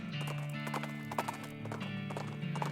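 A ghost horse's hooves clip-clop steadily in the video game West of Loathing, an even rhythmic patter of hoofbeats over a sustained musical score.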